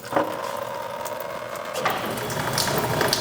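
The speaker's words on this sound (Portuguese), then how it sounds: "Segura aqui que eu vou ligar a bomba d'água lá." An electric water pump runs while a car's cooling system is bled in a garage during drift-car preparation, a steady watery churning and gurgling hum that holds constant throughout, with faint clatter and no talk.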